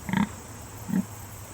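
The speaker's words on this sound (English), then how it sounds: "She just constantly is bleating really loud." A goat bleating loudly, two short, harsh bleats about a second apart, close and prominent, with no talking.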